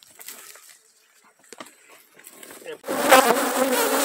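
Honeybees at an apiary buzz close by, a weak colony that barely flies, with soft scattered hums at first and then a dense, loud, steady drone that swells near the end.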